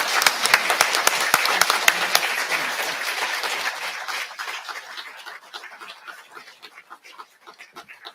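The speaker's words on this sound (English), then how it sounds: "let's give them a round of applause" Audience applause at a volunteer awards ceremony, a full round of clapping that starts loud and dense, then thins and fades over several seconds into scattered claps.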